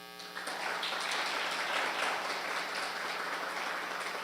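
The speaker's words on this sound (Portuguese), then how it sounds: "vamos aplaudir e receber a nossa querida psicóloga, pedagoga, Carla Tartari." Steady crowd applause swells quickly and holds at an even level, a dense patter of many hands clapping together with no voices over it.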